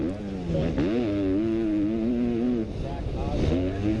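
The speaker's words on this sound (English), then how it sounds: "You can hear how hard these guys are on the gas and then immediately on the brakes right there" Motocross 250 bikes at the Hangtown AMA round howl under hard throttle, with pitch rising and wavering before dropping off as they brake downhill, a second engine surging near the end.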